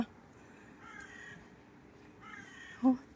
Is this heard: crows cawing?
yes